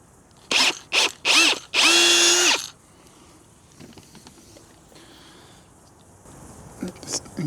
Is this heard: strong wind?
no